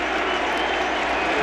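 Baseball stadium crowd at a 2016 ALDS Game 3 roaring and applauding after a defensive play, a dense, loud, continuous wash of cheering that fills the whole moment.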